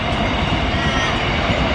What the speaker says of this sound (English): Can't wait for the train to go past.